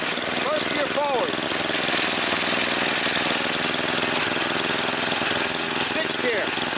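A 22-year-old Craftsman 30 inch riding lawn mower runs steadily in first gear, a loud continuous engine drone close by, with a voice speaking briefly over it.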